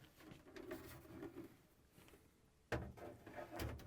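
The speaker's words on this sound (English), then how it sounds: "And now we can slide in the crisper drawers and put it onto this roller" A crisper drawer on an LG/Kenmore refrigerator slides in onto its roller, a soft rolling rumble followed by a sudden sharp clunk and a few quieter plastic knocks, close and faint overall.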